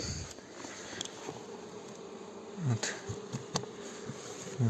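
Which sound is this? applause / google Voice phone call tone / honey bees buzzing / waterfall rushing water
honey bees buzzing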